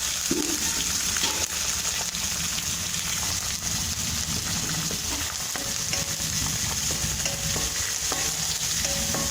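Onions sautéing with curry leaves and green chillies in a pan for a pigeon pea and potato kurma, a steady broadband sizzle with stirring scrapes throughout, no voices.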